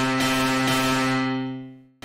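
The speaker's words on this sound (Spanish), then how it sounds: "Ahí por ejemplo estoy poniendo el máximo y ya prácticamente suena como si fuera simplemente ruido" A distorted synth tone with FL Studio's Fast Dist plugin turned to maximum, a harsh, buzzing, noise-like drone that fades toward silence before a short loud burst returns.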